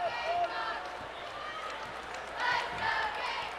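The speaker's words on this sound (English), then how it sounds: "And a nice hand from the crowd here inside Colonial Life Arena." A home crowd applauds in a women's college basketball arena, Colonial Life Arena, as the game winds down. The steady clapping and cheering swell slightly toward the end, under an announcer talking.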